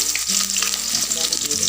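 Sliced shallots dropped into hot oil for a padang-sauce shrimp dish, a loud, close, steady sizzle and crackle with some tonal background hum underneath.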